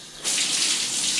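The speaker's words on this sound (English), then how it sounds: "So I'm going to turn on the water," A rain shower head is switched on and water suddenly bursts out, then hisses steadily in a loud, even spray.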